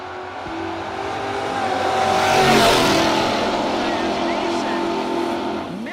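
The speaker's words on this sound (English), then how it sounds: "this all Mopar affair as Mason Fix out of New York in the Dodge Dart dialed in 734." A Mopar Dodge Dart drag race car at a no-box drag racing event, engine roaring as it accelerates and swells to a peak before easing off, with an announcer talking over it.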